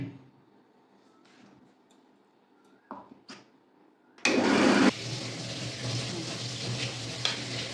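An electric blender grinding bitter gourd leaves kicks in about halfway through with a loud burst, then settles into a steady, close whirring grind that runs to the end, after a few quiet kitchen knocks.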